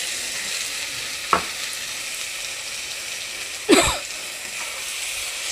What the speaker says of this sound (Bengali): মশলাটা দিয়েছি, দিয়ে কষিয়ে নিলাম।